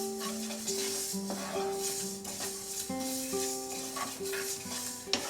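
Fennel seeds dry-roast in a kadai on very low heat for mango pickle, giving a faint, gentle rustling and scraping as they are stirred, with a quiet musical backing throughout.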